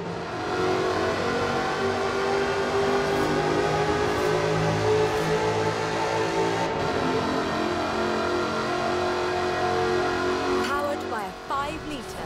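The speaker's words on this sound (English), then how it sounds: "V8 supercharged engine." A supercharged V8 car with a fully aluminium body in Forza Horizon 4 hums with a steady, sustained engine drone, and a voice talks over it throughout.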